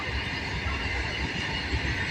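A running train between Palanpur and Chandisar, heard from inside at the window as a steady low rumble and rattle of wheels on track, continuous and even, with no talk.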